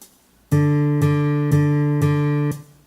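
Four identical sustained notes played back at an even tempo, each struck cleanly and held until the next, ending after the fourth with a short decay.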